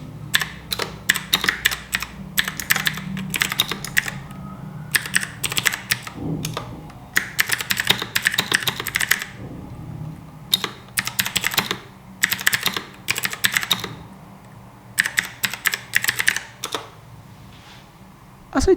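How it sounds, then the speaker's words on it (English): Rapid, clicky typing on a Royal Kludge RK61 60% mechanical keyboard with blue switches, in bursts with short pauses between them, close and crisp, no voices. "in the next 30 seconds I'll be typing on this keyboard"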